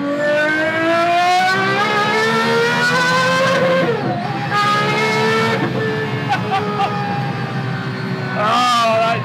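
A loud T.33 mule car engine revs hard in third gear, its pitch climbing steadily to a high scream near 11,000 rpm, dropping briefly and climbing again, heard from inside the car.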